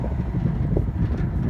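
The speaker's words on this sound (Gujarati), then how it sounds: "પવન એટલો સારો આવે તાજો" Wind roars past an open, moving Bolero on a drive through farmland, a steady low rumbling buffet across the mic for about a second and a half, loud and continuous, with no speech.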